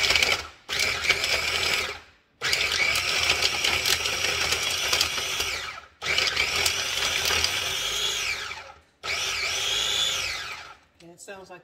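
A food processor chopping dog food made from kitchen scraps, running in four long whirring bursts separated by short pauses, loud and close with a pitch that rises as the load thins.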